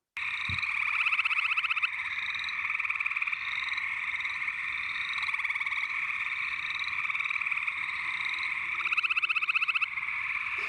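A dense chorus of frogs calls continuously, with rapid pulsing trills layered over a steady high buzzing drone, loud and close with no voices.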